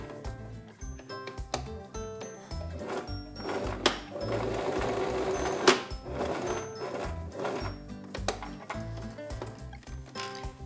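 A sewing machine stitches through layers of foam and velvet at a slow, steady pace, its rapid needle clatter continuous and close, with brief pauses and small mechanical clicks.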